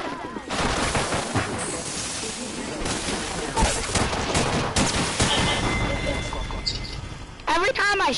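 Apex Legends gunfire crackles through the clip in rapid, close bursts and steady volleys, with someone talking intermittently over the shooting.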